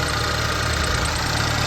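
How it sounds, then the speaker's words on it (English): A Chevy HHR SS turbo engine runs at a steady idle, its belt squealing, with a constant close rumble and a thin high whine over it and no talking. "That's why my belt's squealing."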